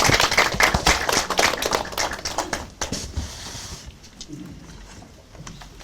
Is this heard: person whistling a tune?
no